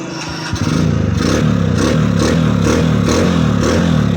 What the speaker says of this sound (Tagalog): Start natin kung andar na yung motor na KLX.